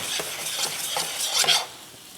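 A spoon stirs soy sauce and balsamic vinegar together in a bowl, giving a steady run of wet scraping swirls with a few sharper clinks, close up and with no talking.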